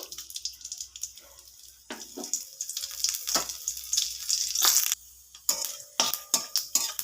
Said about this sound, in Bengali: তেলের মধ্যে ফোড়ন করে নেব 2টো তেজপাতা, শুকনো লঙ্কা একটা, আর দেব 5 ফোড়ন।